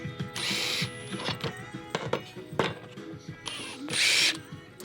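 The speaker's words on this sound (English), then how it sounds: "I'm cutting some fascia boards for to start hanging our fascia up" Power saw cutting fascia boards for exterior trim on a house build, with two loud bursts of cutting near the start and end and clattering handling noise between.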